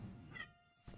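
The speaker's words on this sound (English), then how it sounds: "if you hear a cat in the background, that is not the game. That's my cat." A pet cat gives a single short, faint meow in the background of a quiet room.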